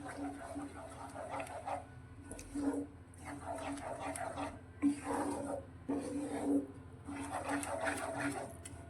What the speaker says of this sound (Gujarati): અને શેકેલા સોજીને હવે તેની અંદર આપણે એડ કરીશું અને સારી રીતે તેમાં મિક્સ કરીશું